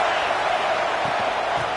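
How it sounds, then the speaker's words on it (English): A stadium crowd at a top-25 college football game against LSU roars in a steady, dense wall of noise, loud and unbroken throughout the short moment. "This crowd trying to make life miserable for this offense."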